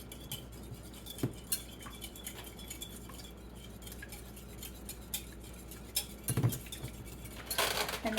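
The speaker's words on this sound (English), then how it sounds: "we're going to whisk this." Egg-based chaffle batter being whisked in a bowl, giving a soft, irregular scraping patter of metal against the bowl at close range, with a few sharper clinks and a brisker burst near the end.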